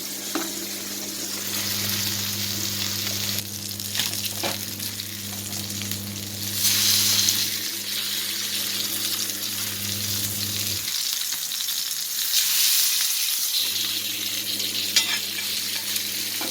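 Black pomfret fish fries in coconut oil in a pan, giving a steady close crackling sizzle that runs the whole time, with a low hum underneath that drops out briefly and then returns.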